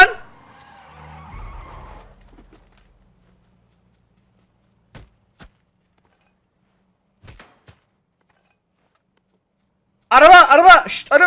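A car in the video game PUBG skidding, with a tire squeal and rumble at the start, then quiet with a few faint taps, ending in a loud burst of squealing, sliding tires.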